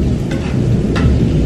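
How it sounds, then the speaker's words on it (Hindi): Steady heavy rain pours with a deep, rolling rumble beneath it, loud and close, with a couple of brief sharper splashes. "बारिश भी आ रही है"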